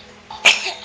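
One short, sharp sneeze bursts out close by against a quiet indoor background, followed by a brief fading breathy tail.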